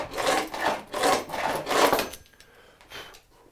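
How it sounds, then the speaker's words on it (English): A dull hacksaw rasps back and forth against wood while cleaning up a handmade wooden panel gauge, four close rhythmic strokes followed by a few fainter ones. "Grab the dull hacksaw once more."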